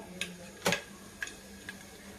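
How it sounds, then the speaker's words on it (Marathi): Mustard seeds crackle in hot oil: a handful of sharp, irregular pops, one louder than the rest, over a low steady hum. "मोहरी आपली छान तडतडली."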